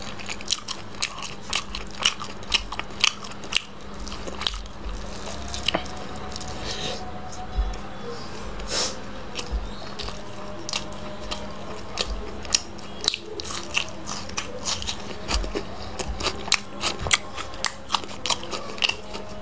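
Someone bites into and chews a piece of roast chicken breast, producing repeated close crunches and wet squishy chewing sounds in an irregular rhythm, with a steady low hum underneath.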